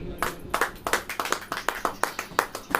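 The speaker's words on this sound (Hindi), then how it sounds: "ताली बजाएं।" A church congregation claps in unison, a rhythmic series of sharp hand claps at a steady moderate pace, close and clear.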